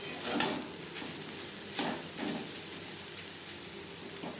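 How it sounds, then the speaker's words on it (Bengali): Yardlong beans with coconut are stir-fried in a pan over a medium gas flame, giving a faint, steady sizzle broken by a few soft scrapes of the spatula. "নারকেলের সাথে বরবটি নাড়াচাড়া করে নেওয়ার পর গ্যাসের ফ্লেমটা বন্ধ করে দেব"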